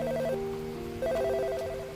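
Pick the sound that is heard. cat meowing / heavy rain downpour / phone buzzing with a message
phone buzzing with a message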